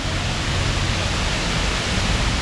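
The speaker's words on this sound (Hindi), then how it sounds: "मुझे जो सबसे ज़्यादा चीज़ मज़ा दे रही है ना, वो इसका जो साउंड है ना पानी के गिरने का" Khorfakkan waterfall in the UAE pouring down in a steady, loud, broadband rush of falling water, continuous and unbroken with no voices.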